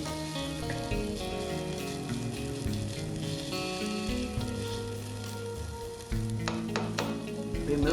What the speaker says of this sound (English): Add diced garlic to the cooked onions and cook about 2 minutes.